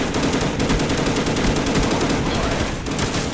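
Dense, continuous automatic gunfire from a shooter video game, with loud rapid shots blending into a steady roar throughout and no pauses.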